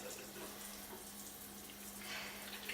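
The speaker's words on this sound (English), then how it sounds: "So now we'll do just a quick wash in the sink." Tap water running into a sink while hands are washed under it, a soft, steady faint splash lasting throughout with slight swells as the hands move through the stream.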